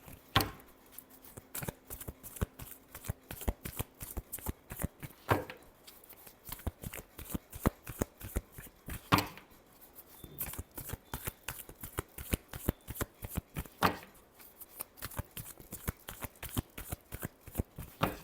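Cards shuffled by hand for an astrology card reading, heard as a quick, uneven run of soft riffles and slaps, close and fairly quiet, with no talking.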